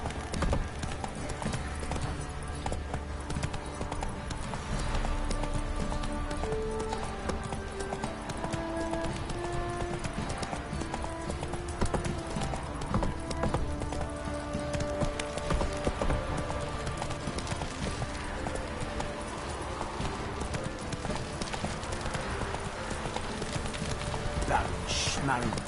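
Steady clip-clop of the horse Roach galloping in The Witcher 3: Wild Hunt, hooves pounding continuously and close for the whole stretch, with voices speaking over the hoofbeats.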